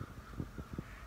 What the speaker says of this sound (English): The birds are going absolutely wild.